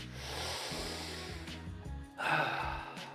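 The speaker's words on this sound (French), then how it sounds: "vous prenez de nouveau une bonne inspiration" After the breath is held, a person takes a deep inhalation, a short breathy gasp rising near the end over quiet background hum.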